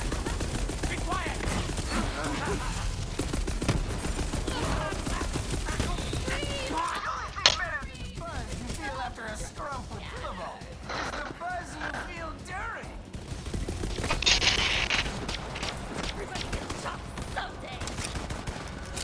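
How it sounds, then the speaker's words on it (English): Rapid bursts of auto rifle fire crackle in Borderlands 3 combat, sharp repeated shots in clusters with a few louder bangs, while a voice talks over parts of the action. "I like this auto rifle. It has no recoil whatsoever."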